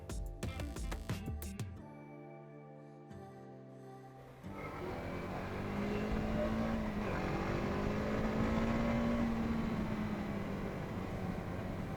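A TVS Apache RTX 300 adventure-tourer motorcycle accelerates hard in tour mode. A steady, close engine drone climbs in pitch and holds loud after an opening stretch of tonal sound, with no talking.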